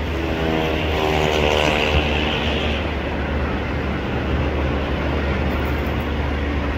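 An ALSTHOM 4212 diesel locomotive accelerates away hauling a commuter train, its engine a loud, steady, throbbing drone with a strong low rumble that holds throughout.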